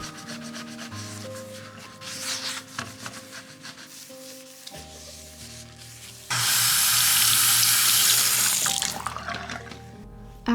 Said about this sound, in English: I like to fill it up with water and then add a capful of Citrusol